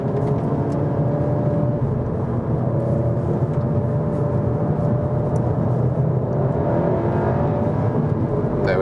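A 300 hp Seat Leon Cupra with DSG gearbox and all-wheel drive accelerating in sport mode, a steady muffled engine drone and whir heard from inside the cabin, with no talking.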